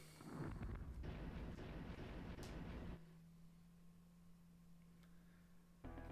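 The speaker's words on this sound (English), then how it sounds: "Artillery, ho!" Artillery firing in the SNES game War 2410: a heavy rumbling blast with crackling fire that rolls for about three seconds, then drops to a quiet steady hum before a short sharp burst at the end, with no talking.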